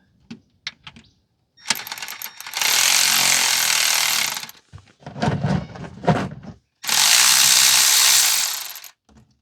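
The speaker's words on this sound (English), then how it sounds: "Got the head of my ratchet all oiled up." A ratchet wrench works transmission pan bolts on an Allison transmission, with two long, loud bursts of rapid clicking, separated by shorter clacks and thunks of the tool being repositioned, close by.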